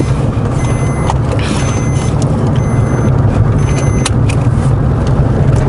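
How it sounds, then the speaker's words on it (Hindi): A car's seatbelt reminder chimes inside the moving vehicle, a clear tone repeating at steady intervals over loud, constant road and engine noise. "गाड़ी बोल रही है बेल्ट लगाओ भाई।"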